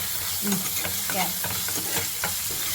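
Ginger garlic paste and turmeric are stirred and frying in a pan, with a steady sizzle and soft scraping strokes of the spoon recurring throughout, close and fairly loud.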